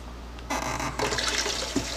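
Running water splashes steadily from a tap, rinsing a cooled pickle canning jar, with a brief knock partway through, close and fairly loud.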